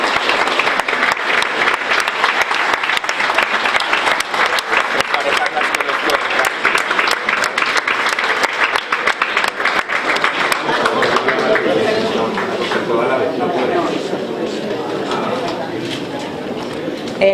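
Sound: audience applause at a festival presentation

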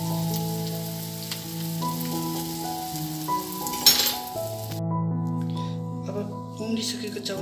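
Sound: slowly stirring frying chowchow noodles

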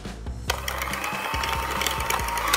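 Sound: mixing butter, sugar and mashed salted egg yolk

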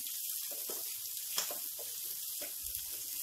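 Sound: green capsicum frying and being stirred in a pan

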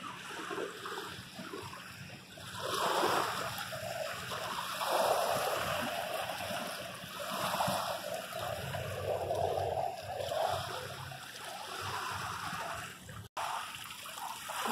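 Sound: water splashing at a city beach

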